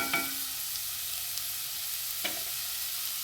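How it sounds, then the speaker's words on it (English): Onions sautéing in a pan, giving a soft, steady sizzle at close range with a couple of brief utensil clinks, and no voice over it. "And I let this saute for a little bit."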